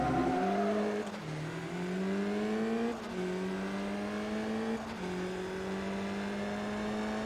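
A rallycross car engine from the Forza Motorsport 2 video game drones and revs steadily, its pitch climbing through gears with brief dips at each shift, loud and continuous with no talking.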